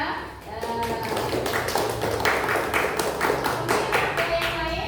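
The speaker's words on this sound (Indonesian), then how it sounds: "beri tepuk tangan untuk Mbak Vina ya" Pupils in a classroom clap for a classmate, Mbak Vina, after her story: a lively, sustained patter of many hands close by, with children's voices mixed in throughout.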